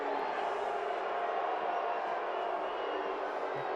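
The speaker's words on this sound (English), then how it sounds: "the boos raining from the crowd" A stadium crowd at a 2021 soccer match between New Mexico United and Loudoun United FC keeps up a steady, sustained drone of booing, heard from a distance without any break.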